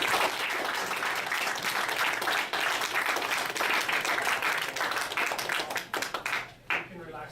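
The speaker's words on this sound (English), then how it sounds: "let's give Unit 1 a round of applause." Continuous crowd clapping honours Unit 1 at a 2016 We The People civics competition. The steady, moderately loud applause holds for several seconds, then breaks up and fades toward the end.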